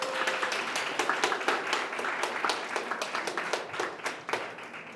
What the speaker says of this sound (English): Could I get a round of applause for our principal?